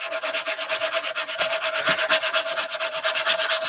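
Sandpaper rubbed back and forth on the underside of a model aircraft wing, a close, even, scratchy rasp repeating in quick strokes with no speech over it.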